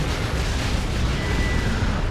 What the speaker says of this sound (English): those were some airdrop mines from Yarrick, and he combined that with the Manticore Strike